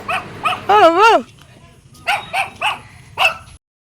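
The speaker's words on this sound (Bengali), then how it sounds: "রাস্তায় দেখো এই দুইটা কিউট ডগি আমাদেরকে দেখে" A few short, high yips and barks from two dogs on a street sound up close, with one drawn-out whining bark among them before a sudden stop.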